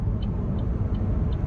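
A Chevy Volt pulls hard under full power on an open road, giving a steady low rumble of road and drivetrain noise with a faint whine, loud and continuous with no talk.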